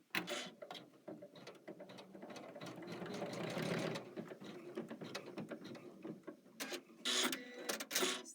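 A Kimberbell embroidery machine stitches down ribbons, a steady rapid mechanical whir and clatter of the needle, close and fairly quiet, with brief pauses and bursts of faster stitching near the end.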